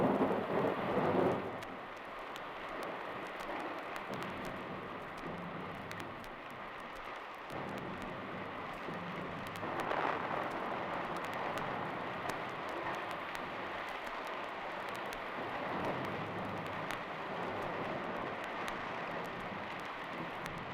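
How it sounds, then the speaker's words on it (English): A thunderstorm rumbles with steady rain and wind, thunder swelling at the start and again midway, heard as a sound effect on a 1974 vinyl children's story record, with no talking. "Such a noise and wind and rain."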